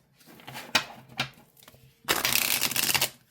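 Oracle cards are shuffled by hand: a few quick riffling snaps, then a dense, continuous burst of papery flutter close by.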